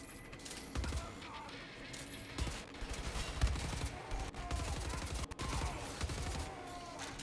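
Wolfenstein: The New Order gunfire, repeated bursts of automatic shooting with thumping impacts, fairly quiet overall and running almost continuously.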